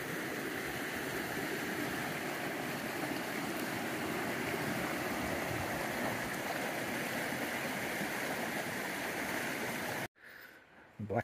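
Black River flows in a steady, broad rushing wash of water heard up close along a four-wheel-drive track, continuous and loud before cutting off abruptly near the end.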